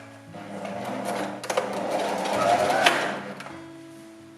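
Domestic sewing machine stitching push-up bra cups, its motor whirring in steady runs with brief pauses and clicks, close and fairly loud, no talk over it.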